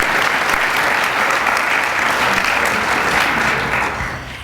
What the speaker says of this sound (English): So let's just give them applause even though they're not here.